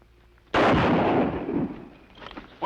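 Gunfire in a 1953 western TV episode: one loud, sharp blast that booms and rolls away for about a second, followed by fainter crackling reports and another sharp crack at the end, with no talk.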